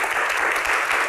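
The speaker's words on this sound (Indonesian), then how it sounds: "Tepuk tangan ya." An audience at a Q&A event applauds, with a short burst of steady, dense clapping.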